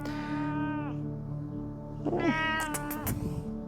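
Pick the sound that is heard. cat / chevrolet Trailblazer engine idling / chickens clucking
cat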